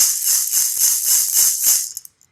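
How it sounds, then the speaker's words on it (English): A shamanic rattle shaken in a quick rhythmic pattern of about seven bright, hissing bursts, close and fairly loud, ending with a couple of faint clicks. "a rattle sounds like this, or perhaps deeper, a shamanic rattle"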